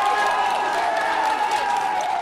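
A crowd in Nepal cheers and applauds as a teenager is freed from earthquake rubble, a dense, continuous wash of clapping and shouting voices that holds at a steady loud level throughout.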